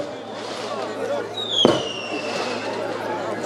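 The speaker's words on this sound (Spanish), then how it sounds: "Ahí están los fuegos artificiales." Fireworks at a wedding celebration, a single sharp bang with a whistling streak amid crowd murmur and an announcer's voice over amplified sound.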